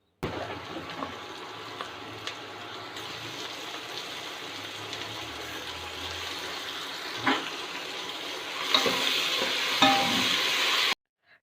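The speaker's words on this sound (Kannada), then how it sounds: "ಇದನ್ನು ಚೆನ್ನಾಗಿ ಮಿಕ್ಸ್ ಮಾಡಿಕೊಂಡು ಫ್ರೈ ಮಾಡ್ಕೋಬೇಕಾಗತ್ತೆ" Tomatoes and masala frying in a pan while being stirred, a soft sizzle with scraping stir sounds that swells louder near the end.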